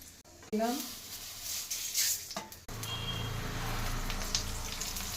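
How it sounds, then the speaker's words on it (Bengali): A voice speaks briefly, then panch phoron, a dried red chilli and two bay leaves hit hot oil for mung dal thor ghonto, starting an abrupt, steady close sizzle with a low hum beneath. "দিলাম 5 ফোড়ন দিলাম, একটা শুকনো লঙ্কা ফোড়ন দিলাম, 2টো তেজপাতা ফোড়ন দিলাম"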